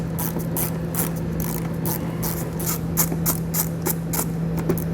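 A ratchet with a 5.5 mm socket backs out screws while a trailer hitch is fitted to a 2019 Lincoln Nautilus: rapid, irregular metallic clicking bursts repeat close up over a steady mechanical hum.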